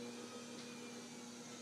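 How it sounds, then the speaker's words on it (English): A kitchen blender runs at low speed mixing cookie batter with baking soda and salt, a steady faint motor hum heard alone. "Turn your blender on."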